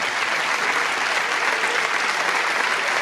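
Sustained applause from an audience at a cancer charity gala honouring the management team, a dense, steady wash of clapping held at even loudness throughout.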